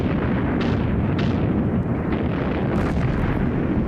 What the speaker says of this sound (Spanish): en menos de un minuto se levantó la salva de cañonazos más tremenda que haya visto nunca